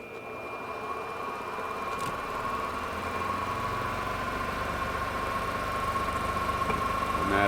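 A small wood blank spins on a wood lathe at about 1,000 RPM while being turned into a Christmas tree ornament, producing a steady, close motor hum with a faint whine that holds constant throughout.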